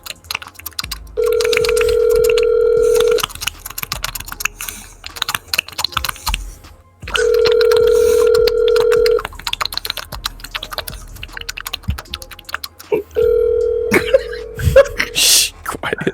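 A telephone call ringing out, with three long, steady ring-back tones spaced evenly apart and clicking, tapping sounds in between.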